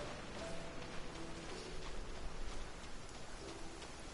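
A steady rain downpour falls in the video game Genshin Impact, a soft, even hiss of rainfall with a faint rumble underneath, quiet and continuous with no talking.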